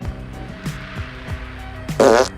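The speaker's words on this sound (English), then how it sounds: "they've got a recording of a fart on their reel-to-reel at all times in case they have company" A recorded fart plays on a reel-to-reel tape machine in Ghostbusters (2016), a loud buzzing blurt near the end that follows a few soft low thumps over a quiet hum.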